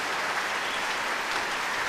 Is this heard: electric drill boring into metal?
no